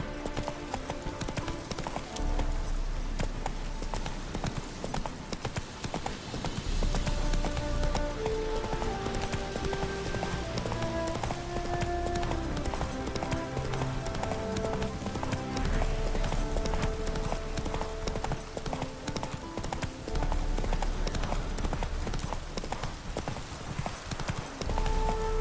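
Roach, the horse in the video game The Witcher 3, gallops with a steady, rapid clip-clop of hooves that continues throughout, layered under loud orchestral game music.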